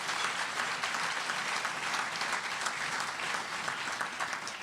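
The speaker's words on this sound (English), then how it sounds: "So how about a large round of applause for our sponsors" A large room of breakfast attendees claps steadily for the event's sponsors, a dense, even wash of applause that holds without pause and with no voices over it.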